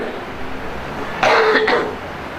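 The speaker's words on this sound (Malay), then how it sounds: "Minta maaf tuan-tuan, saya batuk dah seminggu lebih ni." A single person coughs a couple of times at close range, a short rough burst that stands out against a quiet room background with no talking.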